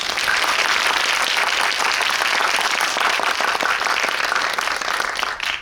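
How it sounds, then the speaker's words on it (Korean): An audience at a drama screening with the director and cast present breaks into sustained applause, a thick, even wash of many hands clapping that fades slightly at the end. "재밌게 보셨으면 큰 박수 부탁드립니다"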